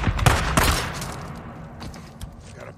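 Gunfire in the video game Days Gone: a rapid cluster of loud close shots at the start, then sparser reports trailing off over a lingering background rumble.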